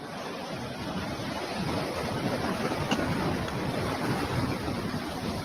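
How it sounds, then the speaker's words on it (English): Ocean waves surge and wash steadily around a car parked too close to the shoreline, a continuous broadband roar of churning surf with wind buffeting the microphone throughout, loud and unbroken. "it was swept away by the waves"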